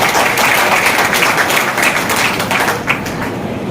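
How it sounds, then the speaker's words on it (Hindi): Audience applause at a cooperative bank's 68th foundation day celebration in Mahendragarh, welcoming a guest; dense, steady clapping fills the hall loudly throughout with no break. "तालियों से उनका स्वागत।"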